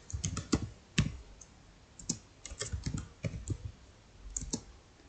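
Someone types code on a computer keyboard in quick, uneven bursts of close, crisp key clicks with short pauses between them. No voice can be heard.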